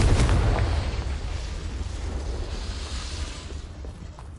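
A Confringo fire-blast spell explodes in Hogwarts Legacy, a heavy, rumbling boom with a crackling burst that starts loud and slowly decays over several seconds, no voices over it.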